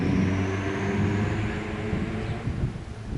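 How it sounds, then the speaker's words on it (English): A small turbocharged Honda Civic drives past close by with a loud, steady engine rumble that wavers slightly as it goes, with no talking. "Little turbo Civic."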